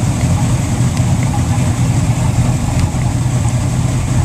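A boat engine idling at the dock, a loud, steady low rumble running without change throughout, with no one talking.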